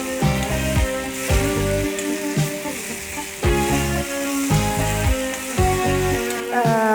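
Boiled prawns sizzle loudly with onions in a hot pan, while a spatula stirs and scrapes in a repeating rhythm, close up and with no talking.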